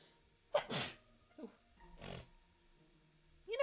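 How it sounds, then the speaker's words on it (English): A person sneezes sharply and loudly once, followed by a fainter sniff or second burst, with quiet breathy gaps in between. "oh, I have to sneeze."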